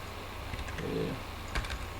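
A computer keyboard being typed on, heard as a few soft, scattered key clicks in two short bursts over a quiet room hum, with no talking.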